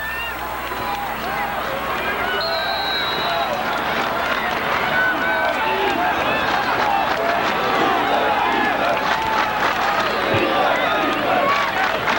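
A big high school football crowd of more than 7,000 fills the stands with steady roaring hubbub and scattered shouts, dense and continuous throughout, with a play-by-play announcer talking over it.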